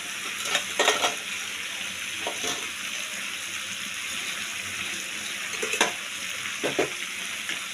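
A spatula stirs spiced potato curry with peas in a pan, giving a steady close sizzle broken by several short scraping, splashy strokes spaced irregularly.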